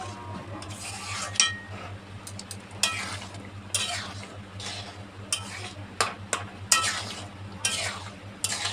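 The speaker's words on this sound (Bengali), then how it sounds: "এবার এটাকে নেড়ে দেবো।" A spatula stirs lentils with ash gourd in a pan, producing repeated close scrapes and metallic clinks in an irregular rhythm over a low steady hum and soft sizzle.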